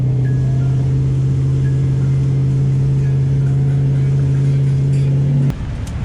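An M50 turbo drift car engine idles at a drift event, a loud, steady, close rumble with a constant droning pitch that holds for over five seconds and then cuts off abruptly near the end.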